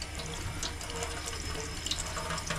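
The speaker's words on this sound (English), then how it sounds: "Run it with some cold water." Cold tap water runs steadily over a freshly cleaned, stocked rainbow trout fillet in a sink, a continuous close splashing rush with no talking.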